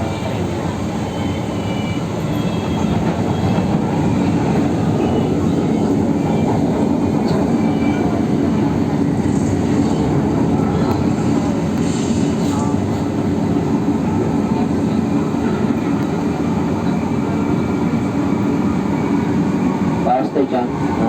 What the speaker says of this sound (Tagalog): so nakasakay ako dito sa train